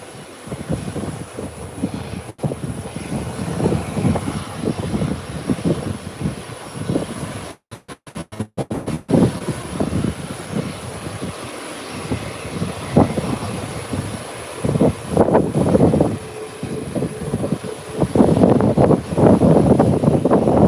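An aircraft taxis toward parking after turning around on the runway, a loud, steady engine rumble and roar that swells and fades over twenty seconds with brief dropouts, heard from nearby with no talk.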